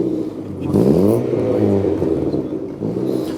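The 1.1 litre Valencia engine of a Ford Escort Mk2 on a new single-choke carburettor revs loudly and close, rising in pitch then settling, among other classic cars at an outdoor gathering.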